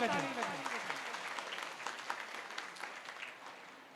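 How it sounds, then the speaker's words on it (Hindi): Audience applause at a Sahu community Karma Mata Jayanti gathering in Kurud, honouring a former cabinet minister; steady crowd clapping throughout, fading a little toward the end, with a trailing voice at the start. "जोरों से एक बार ताली बजे"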